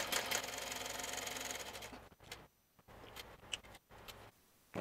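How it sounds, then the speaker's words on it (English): A sewing machine stitches along the presser foot edge, following a previous line of stitching on a handmade traveler's notebook; a steady mechanical run for about two seconds, then short, sparse bursts with quiet pauses between them. "I'm just going to run right along the edge of my presser foot"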